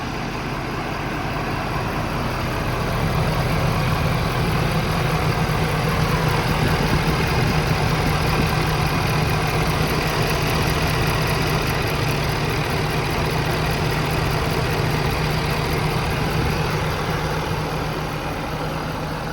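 A 2018 Ford F550 4x4 service truck with an IMT crane idles steadily and close by, giving a continuous low engine rumble with a constant hum and no talking.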